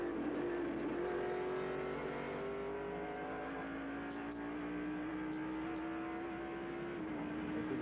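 Onboard race car engine of the Family Channel stock car during a 1993 road-course race, a loud steady drone slowly rising in pitch through a long straightaway pull, with a brief gear change near the start.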